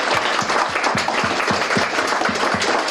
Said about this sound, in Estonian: teeme aplausi Viluperede vanematele.